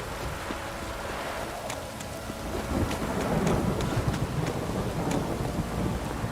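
Steady heavy rain downpour in The Witcher 3 video game hisses throughout, growing louder midway, with scattered drip taps and a low rumble underneath.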